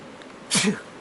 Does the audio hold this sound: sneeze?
yes